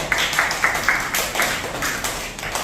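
A classroom of students claps for a classmate, giving a short burst of quick, uneven hand claps at steady volume with no talking.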